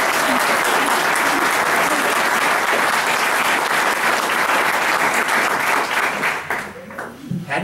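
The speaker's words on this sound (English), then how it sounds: "You applaud." Loud, sustained applause from a candidate forum audience fills the room, with cheers mixed in, then thins out and fades over the last second.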